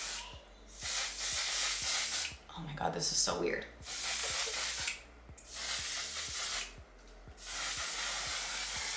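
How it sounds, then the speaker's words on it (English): Bursts of One Size No Transfer setting spray misted over a face, several long hissing sprays separated by short pauses, close and fairly loud, with a voice speaking briefly between them. "I think it's gonna be like a continuous spray."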